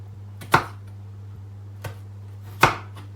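Knife chops through wax gourd on a cutting board while cooking a Thai pork-blood soup, giving two sharp, close chops with a fainter tap between, over a steady low hum.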